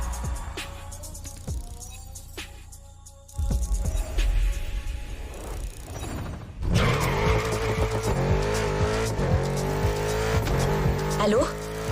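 A car drifts in The Crew Motorfest racing game, its engine revving hard as the tires squeal in long sustained screeches, loud and continuous, with game sounds and speech mixed in over parts of it.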